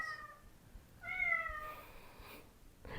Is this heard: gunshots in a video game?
no